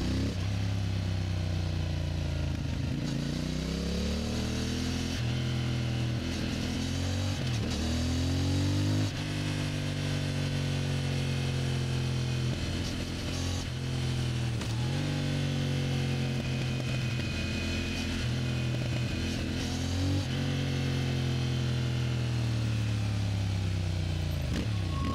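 A CFMoto MT450 motorcycle engine idles and revs repeatedly, with rising and falling pitch and sputtering pops, close and continuous throughout.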